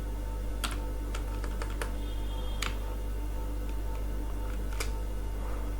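HTML code is tapped out on a computer keyboard, with scattered, sharp key clicks over a steady low electrical hum, no voices.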